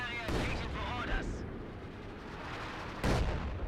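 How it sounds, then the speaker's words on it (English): A mortar shell lands with a muffled boom in Company of Heroes 2 battle, low rumbling blasts at the start and again near the end beneath continuous battlefield noise. "And a mortar connects there."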